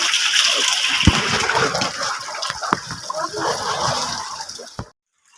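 Steady rain falling in the early morning, a loud continuous wash of splashing water with scattered sharper drips, ending abruptly near the close.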